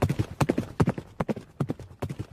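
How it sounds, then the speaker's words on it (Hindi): Horse hooves clip-clop at midnight near a garden, a quick rhythmic run of close, loud hoofbeats. "आधी रात होते ही उसे घोड़े के टापों की आवाज सुनाई देने लगी।"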